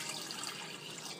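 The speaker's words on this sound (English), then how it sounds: "What I do is I add the water," Water is poured into a pan crusted with hardened caramelized sugar from making leche flan, giving a brief, steady, fairly soft splashing rush.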